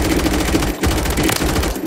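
Rapid automatic gunfire in the Warzone video game rattles continuously and loudly up close, a steady stream of shots with only a brief dip in the middle.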